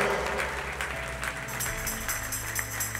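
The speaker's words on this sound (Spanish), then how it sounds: "Puede darle un aplauso al Señor." A church congregation applauds during a sermon, a steady wash of clapping heard at some distance under a sustained musical background.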